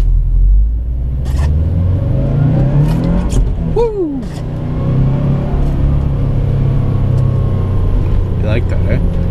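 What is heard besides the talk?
car engine revving high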